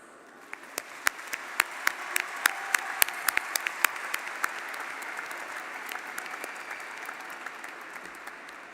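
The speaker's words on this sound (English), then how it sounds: "give a round of applause for yourself and for your classmates" Audience at a 2024 high school commencement ceremony applauding, a dense sustained patter of many hands clapping, with sharper individual claps standing out early on, heard from a distance in a large hall.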